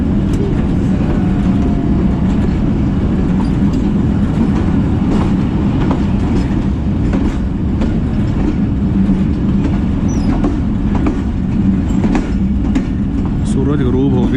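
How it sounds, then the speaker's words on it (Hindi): The Mehr Express pulls out of Basal Sharif railway station in Pakistan, a loud, steady rumble of rolling carriages with faint clicks from the rails, continuous throughout. "ट्रेन डिपार्ट कर रही है बसाल शरीफ रेलवे स्टेशन से।"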